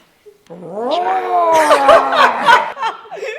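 A person imitates a lion roar with the voice, a rising, drawn-out growling howl that swells loud and wavers for a few seconds before trailing off.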